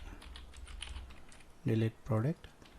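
Keys clatter on a computer keyboard as code is typed for an ASP.NET Core Web API, a soft run of light taps followed by two louder, longer voiced sounds.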